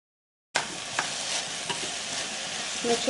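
A spoon stirs zucchini soup base in a pot, beginning abruptly with scraping and gentle sloshing over a steady hiss, with a few light knocks against the pot.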